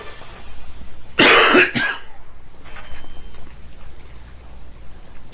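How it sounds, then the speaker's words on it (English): A person coughs sharply a couple of times, a loud close burst that stands out briefly over a steady low background hum, with no talking. "I just went downstairs to get myself some medicine so that I stopped coughing so much in this video"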